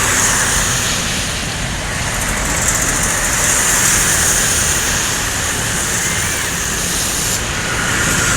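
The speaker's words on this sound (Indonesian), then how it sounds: "Lorena double decker ya, baru masuk dari Bogor Jakarta menuju pool Lorena" A Lorena double-decker bus pulls into the company depot after a run from Bogor and Jakarta, its engine giving a loud, steady, close rumble with continuous traffic-like roar throughout.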